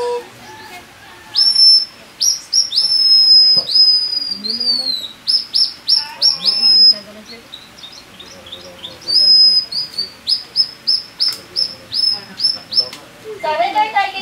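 Palawan tribal hunters imitate bird calls by mouth to lure squirrels and other prey, producing sharp, high, repeated whistled chirps in bursts, close up, with softer voices and rustling in between.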